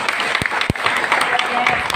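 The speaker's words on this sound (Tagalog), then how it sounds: "palakpak po natin." Crowd clapping at a barangay birthday celebration, a loud, close patter of many hands with a few sharp individual claps standing out, while a voice talks over the applause.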